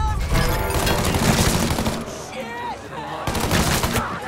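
Gunfire in the video game Mafia 3: dense bursts of rapid shots and booms, close and loud, with a brief lull before another volley, and a voice mixed in.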